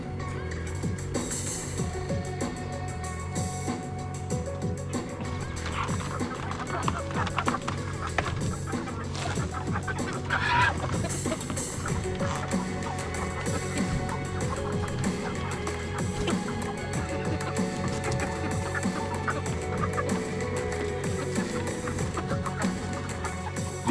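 Chickens cluck and chatter steadily inside a 10 by 10 foot, 2 foot tall Joel Salatin-style chicken tractor on pasture, a busy, continuous flock murmur with occasional louder calls and no talk.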